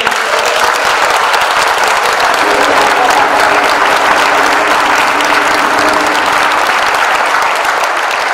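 A church congregation applauding at an Easter service, loud, dense, sustained clapping from a large crowd filling the room without a break.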